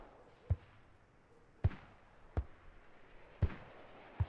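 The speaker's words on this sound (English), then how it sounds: "More mortars coming down." Mortar shells exploding in a multiplayer war game match, heard as five sharp, fairly distant blasts spaced about a second apart, each a brief thud with no talk over them.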